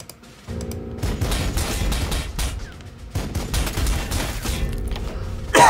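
Loud bursts of sustained gunfire in the strategy game Sanctus Reach, two long volleys of rapid shots separated by a short pause.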